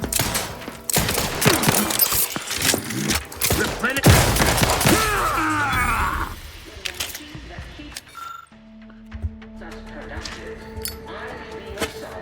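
Grenade blast and bursts of gunfire in The Outer Worlds 2, dense loud rapid shots and impacts over the first six seconds, then a quieter stretch with faint clinks and a low mechanical hum.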